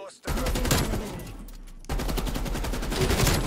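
The Death Machine minigun fires in Call of Duty: Black Ops Cold War in two loud, continuous bursts of rapid gunfire separated by a brief break.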